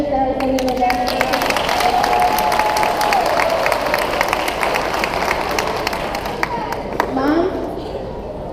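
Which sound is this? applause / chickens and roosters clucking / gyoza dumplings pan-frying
applause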